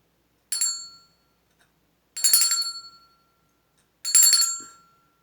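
A bright metallic bell rings three times, each strike ringing out and fading, with short silences between, clear and close.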